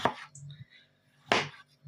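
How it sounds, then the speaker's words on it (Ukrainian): Two crisp knife cuts slicing a cucumber into long thin strips on a board, spaced about a second apart, close and fairly quiet. "Огірочок я буду нарізати на довгі тоненькі смужечки"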